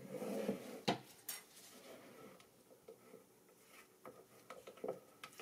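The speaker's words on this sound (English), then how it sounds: "I'm just going to swirl it with a spoon or a hanger" A spoon scrapes and clinks against a container as it swirls cold process soap batter, with soft, irregular taps and scraping close by.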